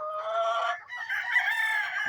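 A gamefowl rooster of Hatch and Kelso lines crows loudly and close, one long harmonic crow with a short break midway, with no other sounds around it.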